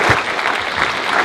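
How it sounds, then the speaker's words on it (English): Brief burst of audience applause at a European Parliament conference in Stavanger, Norway, many hands clapping in a dense, even patter with no voices on top. "So a huge applaud for Richard Urso."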